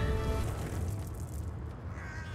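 Crows caw in a Doctor Who episode, harsh calls at close range over a dense, noisy backdrop, with no talk over them.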